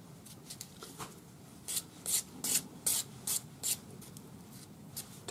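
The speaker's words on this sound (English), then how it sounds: "400 grade paper on your sanding stick" A run of brisk, even strokes of 400 grade sandpaper on a sanding stick tidying the metal ends of square earrings, about six in a row, scratchy and close, followed by lighter rubbing.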